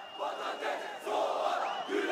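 Opposition election rally crowd in Turkey chanting goodbye to President Erdogan, a dense roaring mass of voices in rhythmic shouted waves, loud and close throughout.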